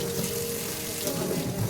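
Water poured through the side filter pipe of a roughly seven-year-old washing machine, a steady full splashing rush, close and continuous, with no voices.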